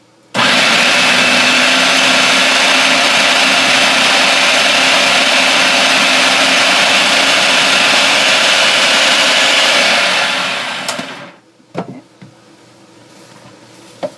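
A food processor spins a tiramisu crust mixture in one loud, continuous whirring roar that lasts about ten seconds, then winds down and stops, followed by a few clunks and rattles.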